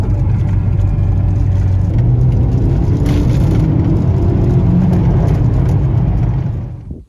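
An Audi S3 engine revs hard after a downshift into third and pulls steadily under turbo boost, a loud sustained mechanical roar that fades out at the very end.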